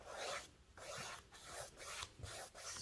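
A paintbrush loaded with burnt sienna paint streaks across a surface in short repeated rasping strokes, about six brushes in quick rhythm, close and fairly quiet.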